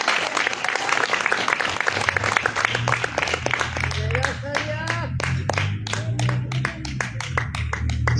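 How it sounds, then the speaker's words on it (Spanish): A church congregation applauds during a Spanish-language sermon, brisk dense clapping that settles into steady rhythmic hand claps, with a voice speaking over it. "Aplauda al Señor, por favor."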